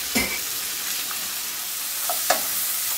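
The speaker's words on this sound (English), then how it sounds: "Water's boiling" Water at a rolling boil in a cooking pot gives a steady loud hissing, bubbling wash, with a few faint clinks of the pot.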